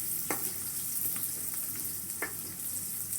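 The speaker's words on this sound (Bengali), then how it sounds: "এখন নিচে পেঁয়াজ দিচ্ছি। পেঁয়াজটা লাল হওয়া পর্যন্ত ভেজে নেব।" Onions sizzling in hot oil in a pan, cooking for a home-style winter mixed vegetable dish with dried fish; a steady hiss with a few soft stirring scrapes, close and fairly quiet, no talking.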